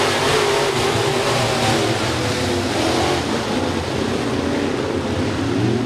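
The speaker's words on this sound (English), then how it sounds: "Jordan Grabowski brings the field to turn number 4" Modified race cars roaring around US 30 Speedway in a heat race, a loud continuous engine drone with shifting pitch as the field passes, dense and steady throughout.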